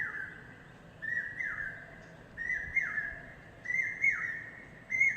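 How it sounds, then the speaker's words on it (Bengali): A bird calls loudly and repeatedly, each call a bright whistled note sliding downward, repeated in spaced bursts over a low background hum. "অনেকক্ষণ থেকে পাখিটা ডাকছে।"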